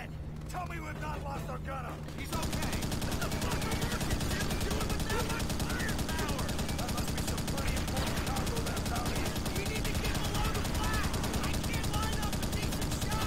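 Enemy gunfire in Call of Duty: World at War, a dense rapid stream of shots and machine-gun bursts that starts abruptly after a quieter opening and continues loud and relentless, with a voice talking over it.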